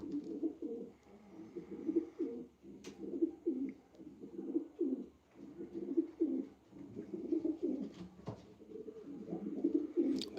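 Pigeons in a breeder loft coo in repeated soft, throaty phrases, moderately near, with occasional faint clicks and rustles and no talk.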